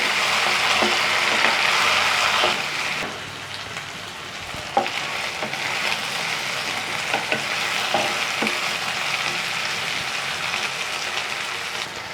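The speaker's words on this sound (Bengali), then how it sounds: "টমেটোটা আবার একটু ভালোভাবে ফ্রাই করে নেবো" Tomatoes frying in a pan with ginger and garlic for a chicken liver kosa, a steady hiss of sizzling throughout with intermittent scrapes of stirring, close and fairly loud, no talking.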